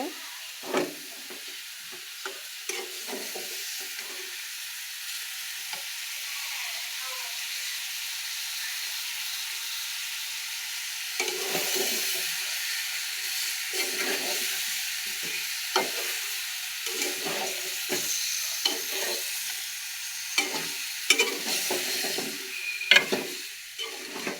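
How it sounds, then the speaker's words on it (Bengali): A spoon stirs fish curry with spices in a hot pan. The frying sizzles and hisses steadily underneath, and clinks and scrapes are scattered throughout. "এখন ভালো করে মিক্স করে নেব মশলার সাথে"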